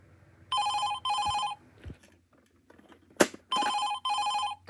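An old-style telephone bell rings in two pairs of bright electronic trills, separated by a gap holding a few soft knocks and a sharp thump, with nobody speaking.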